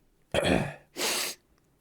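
A person sneezes close by in two loud bursts, a breathy intake-like first part and a sharp hissing second, with no talking.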